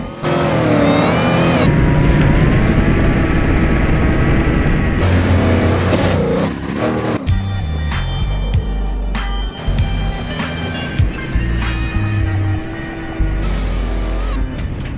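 Simulated Dodge Ram pickup overtaking a truck in BeamNG.drive: a loud revving engine roar that shifts pitch and cuts in and out, then repeated metallic bangs and crunching impacts over continued engine noise, with no talk.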